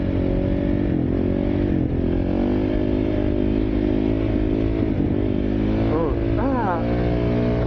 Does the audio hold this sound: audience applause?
no